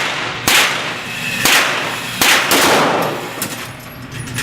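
Sharp, loud gunshots at a shooting range, four cracks spaced about a second apart, each with a short ringing tail and no talk over them.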